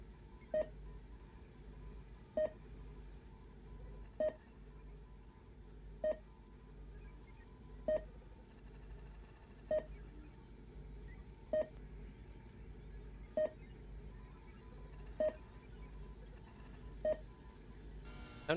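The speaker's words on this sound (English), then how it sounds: "All the beeps and boops of the research machine." Beeps and boops from a research machine in the video game Scavenger SV-4: a short electronic tone repeats at a steady interval of about two seconds, ten times, over a constant low machine hum and faint electronic chatter.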